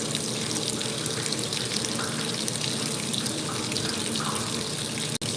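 Water pours steadily into the drum of a Speed Queen top-load washing machine on a Normal cycle with cold water, a continuous close rushing splash over detergent that runs unbroken and fairly loud throughout.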